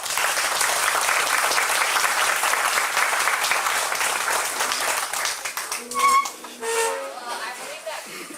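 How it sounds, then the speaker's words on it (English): Audience applause for school board candidates at a 2014 election forum in Campbellsburg, Indiana: steady, dense clapping for about six seconds, then tapering off as a voice begins speaking over the last of it. "Let's give them a round of applause."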